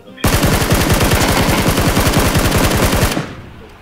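Video game gunfire from an automatic weapon: one loud, rapid, unbroken burst runs for about three seconds and then cuts off abruptly, with no talking over it.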